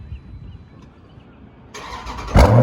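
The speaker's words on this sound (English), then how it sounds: "I was blown away by how beautifully this extremely loud exhaust system sounds" A 2015 Jeep Grand Cherokee SRT Red Vapor Edition cranks after a quiet lead-in, then its engine fires into a sudden loud exhaust roar that booms up close at the very end.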